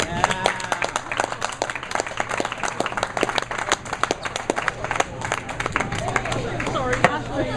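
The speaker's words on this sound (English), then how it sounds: "Hopefully they're about to give these guys a huge round of applause." Scattered clapping and applause from a crowd at a doubles bowling tournament finish, quick irregular claps running throughout while a voice talks over them.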